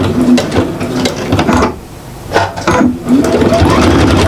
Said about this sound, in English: So let's get this under the needle. And you want to, as I said, back stitch it.